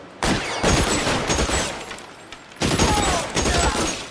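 A Tommy gun fires in L.A. Noire in two loud, close sustained bursts of rapid shots, each lasting over a second, with a short pause between them.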